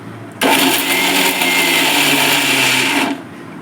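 A kitchen mixer grinder whirs loudly while grinding pumpkin seeds into a spiced powder, starting abruptly and running steadily for nearly three seconds before cutting off.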